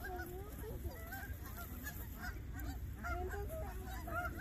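Ducks and geese gather to be fed, honking and calling again and again in a busy, close flock over steady background noise.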